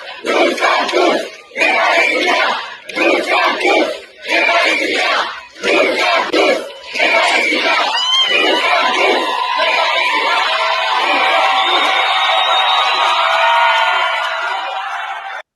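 A large rally crowd shouts and cheers, with rhythmic chant-like bursts in the first half giving way to a sustained, loud roar of cheering and whooping.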